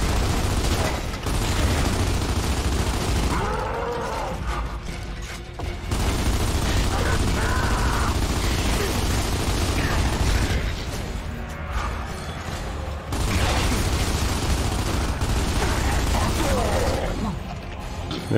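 Heavy gunfire rattles through a Gears of War 2 video game battle in sustained loud bursts, broken by short pauses, mixed with crashes and mechanical clatter while a player talks over it.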